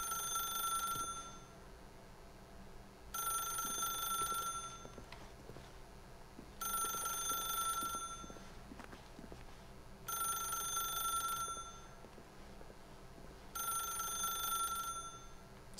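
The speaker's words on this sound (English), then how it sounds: "I think it might just ring forever until I either unplug it or answer it." A telephone rings in The Stanley Parable video game, with five evenly spaced bursts of bright electronic trilling separated by short pauses. It plays alone at a moderate distance over a faint low background.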